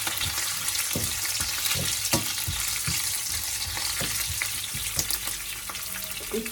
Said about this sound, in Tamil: இப்போ எல்லாத்தையும் போட்டு நல்லா பொரிய விட்டுக்கொள்ளுங்க.